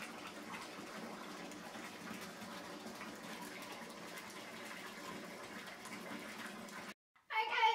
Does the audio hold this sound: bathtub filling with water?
yes